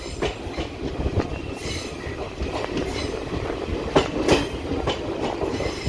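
Train wheels clatter over several diamond crossings in the Vijayawada railway yard, which has route relay interlocking. Close, steady rolling rumble carries irregular sharp clacks and bangs throughout, with no voices.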